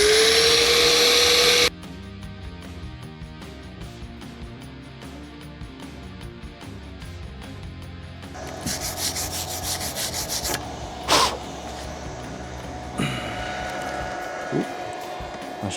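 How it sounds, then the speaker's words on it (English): A power tool grinds out a rough weld on a homemade steel winch plate for a third-generation Toyota 4Runner: a loud, steady abrasive whine that holds for long stretches, with a few sharper bursts and changes in pitch. "But I do have to cut this weld out because it's horrible."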